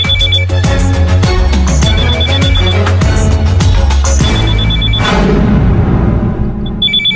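Telephone ringing in a Hindi comedy film scene: a loud, repeating electronic ring pattern with steady tones over a thick musical backing, continuing throughout with a brighter burst near the end.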